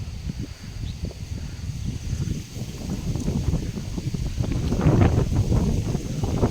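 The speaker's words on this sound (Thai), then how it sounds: "ดูลมแรงนะครับ" Strong wind blowing through a durian orchard, a steady broadband rush with gusts and microphone buffeting that swell louder toward the end, with no talking.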